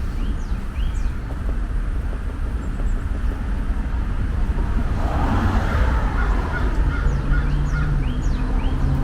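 A bird calls outdoors among trees, its short chirping notes repeating at a moderate distance over steady background noise.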